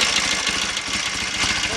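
A Royal Enfield 750 Interceptor MK1 motorcycle engine runs steadily at idle up close, a continuous loud rumble with even pulsing throughout.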